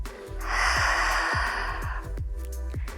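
Strong, audible breaths during a pilates exercise, forceful exhales and sharp inhales repeating in an uneven rhythm close up, over faint background music.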